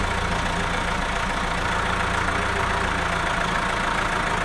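A vehicle engine runs steadily at idle after being shifted into reverse, a continuous mid-to-low rumble holding at the same loud level throughout with no voices over it.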